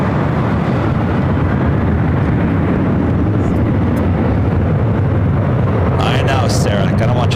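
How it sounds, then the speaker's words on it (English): A Delta Airlines Boeing 737-800 takes off from LAX runway 24 left, its jet engines making a loud, steady broadband roar that fills the whole stretch, with a few brief higher-pitched bursts near the end. "The one lined up on 24 left is Delta Airlines Flight 2096 heading to New Orleans"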